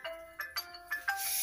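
A mobile phone ringtone for an incoming call, heard in a Rajbongshi comedy sketch: a short melodic tune of repeated bright notes in quick bursts, moderately loud and close, with no talking over it.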